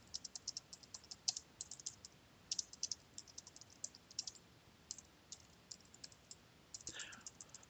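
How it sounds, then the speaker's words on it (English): Fingers type on a computer keyboard in a steady run of sharp, close clicks with uneven rhythm and occasional louder keystrokes, with no voice over it. "I'm having a really bad typing night today"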